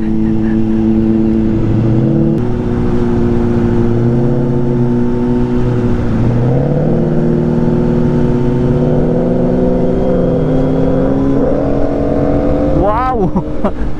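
A turbocharged Ford Mustang engine hums loudly and steadily, its pitch rising and falling as it revs, with a brief whooshing turbo rise near the end.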